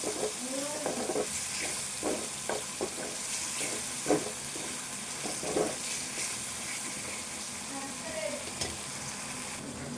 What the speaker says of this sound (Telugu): టమాటా కూడా మెత్తగా ఫ్రై కావాలి. ఇట్లా వేగాలి, మొత్తం దగ్గర వేగాలి.